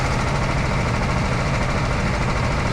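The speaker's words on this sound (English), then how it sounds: "And so we start our engines." Race car engines drone and rumble at the start of a racing video game, a dense, continuous mechanical hum at steady loudness with no talking.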